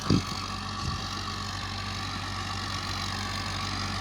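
Dabang 85-horsepower tractor engine running at a steady idle, a constant low rumbling drone after a brief knock at the start, with no speech.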